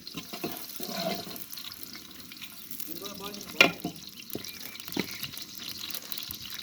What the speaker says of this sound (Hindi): हमारा घी जो है वो गर्म हो चुका है। तो अब हम इसमें प्याज शामिल करेंगे और इनको हल्का सा ब्राउन करेंगे।